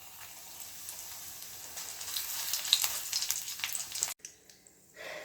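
Mustard seeds fry in hot oil for puli inji, a faint, crackling sizzle that builds gradually before cutting off abruptly near the end.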